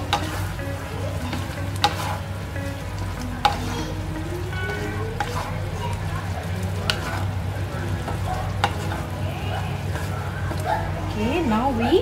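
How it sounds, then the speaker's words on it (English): Fried bean curd (tauhu) stirred into sizzling sambal in a pan over a lowered flame, giving steady frying crackle with scraping stir sounds and a few clinks, while a person talks over it. "Reduce the flame a bit and add the fried tauhu."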